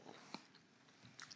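Close, quiet chewing of thick udon noodles dipped for tsukemen, with a few soft, moist bites and one sharper crunch near the end, and no talking.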